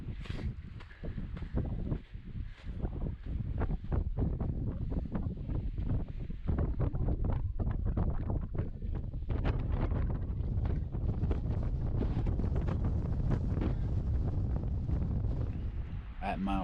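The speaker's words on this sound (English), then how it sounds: "hiding behind this rock because it's super windy" Strong wind on Humphreys Peak, Arizona, buffets the microphone with continuous low roaring gusts, loud and close, with a voice faintly audible underneath.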